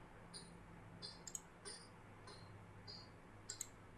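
Computer mouse clicking at a desk while coding a web mapping app, several sharp, faint clicks scattered irregularly, some in quick pairs, over a quiet room hiss.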